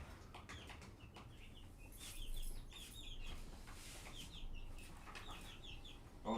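Chickens cluck and chirp in a backyard garden, with short calls scattered throughout over steady outdoor background noise, moderately close.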